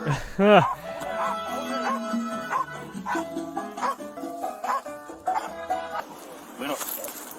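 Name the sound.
police dog barking during an arrest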